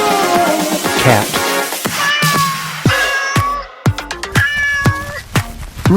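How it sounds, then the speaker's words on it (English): A cat meowing loudly and repeatedly, close up, several drawn-out cries followed by quicker, shorter ones. "Cat."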